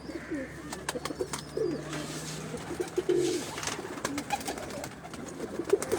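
Pigeons in a Gujrat loft, including two hens, give low, soft coos, with one longer drawn-out call, amid scattered bird chirps and light ambient noise.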